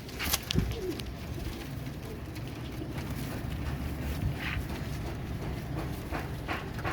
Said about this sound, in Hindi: और दूसरा कबूतर भी आपको दिखाता हूँ